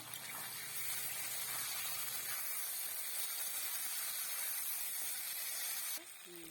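Potatoes, onion and garlic hiss and sizzle steadily in hot oil, a dense, close frying noise that holds level throughout, with a brief clatter near the end.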